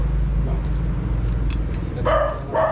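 Two short barks from a nearby dog near the end, over a low, constant rumbling background.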